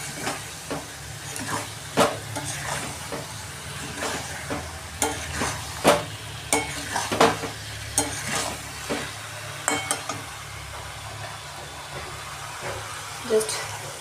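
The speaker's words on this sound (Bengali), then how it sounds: "দেখো জাস্ট নাড়াচাড়া করে নিচ্ছি" Eggplant pieces sizzle in a frying pan while a spatula stirs them, giving irregular scraping clacks over a continuous low frying hiss close by.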